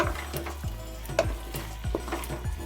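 Diced potatoes with capsicum fried in a pan with garam masala and chopped coriander: a steady sizzle runs throughout while a spatula scrapes and taps the pan in a regular stirring rhythm, close and clear.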